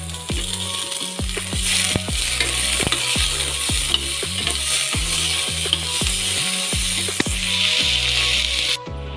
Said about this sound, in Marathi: ते थोडं गोल्डन होईपर्यंत आपण भाजून घेऊया एक टॉमॅटो सुद्धा घातला आहे